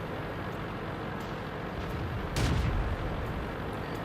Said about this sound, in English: he's using the derp gun, the howitzer, aka the derp gun,